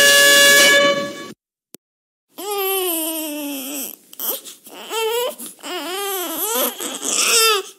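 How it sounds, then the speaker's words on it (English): A loud air horn blast at close range aimed at a sleeping baby in a crib, followed after a short silence by the infant's sudden wailing cries in rising and falling bursts. "I am going to wake her up by blowing an air horn at her."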